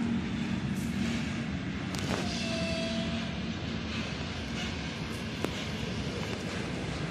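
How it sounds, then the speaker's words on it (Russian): Freight train hauling containers rolls past at Churilovo in Chelyabinsk, a steady rumbling roar with wheel clatter and a brief squeal, continuous and fairly close with no talking. "Контейнеры везет."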